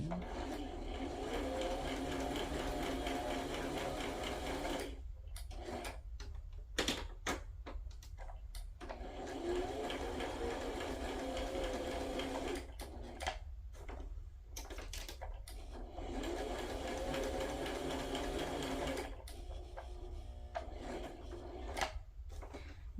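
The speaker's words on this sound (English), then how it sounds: "I'm going to go ahead and sew." Sewing machine stitching shabby fabric for sentiment clusters in a craft session, a steady mechanical whir running in long bursts broken by short pauses, fairly close and continuous.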